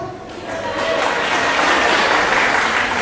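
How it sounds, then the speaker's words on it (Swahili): Teachers at a union meeting break into applause, a dense wave of clapping from a large indoor crowd that builds in the first second and then holds steady and loud, with voices mixed in beneath it. "usione makofi hayo yanapigwa ni kwa sababu walimu wanafurahia ninayoyasema"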